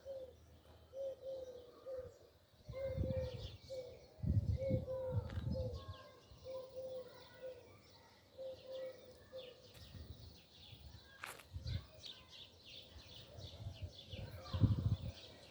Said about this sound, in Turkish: kuş seslerini duydum.